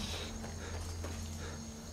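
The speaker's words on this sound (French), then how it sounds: "C'est quoi ça, une calèche?" Hooves clip-clop at a steady walking pace from a horse-drawn carriage in the Skyrim video game, heard faintly under a constant hum and steady ambient drone, with no speech.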